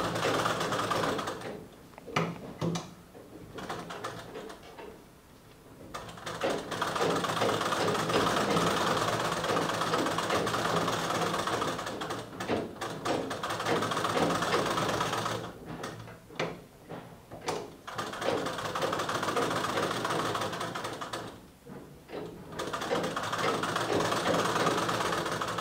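An electric sewing machine stitches a Sabyasachi-style blouse neckline in long continuous runs, its rapid whirring broken by short pauses and shifts of the fabric, close and steady with no talk.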